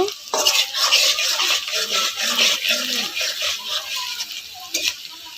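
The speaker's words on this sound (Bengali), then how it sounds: "মাংসের জন্য পেঁয়াজটা আমি একটু লাল করে ভেজে নিচ্ছি" Onion fries in a pan for meat, a loud close sizzle with stirring and scraping bursts that rise and fall through the short stretch, with no speech.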